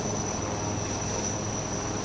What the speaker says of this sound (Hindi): आ चुके हैं वापस 2 एडवांस लाइट हेलीकॉप्टर्स इन जांबाज विजयी कमांडोज को एक्सट्रिकेट करने के लिए